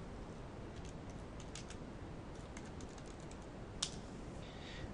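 Soft clicking of keys on a computer keyboard as someone types a file name, a quiet scattered patter over low background hiss.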